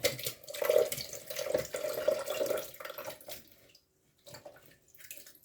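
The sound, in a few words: pouring boiled potatoes with their cooking water into pot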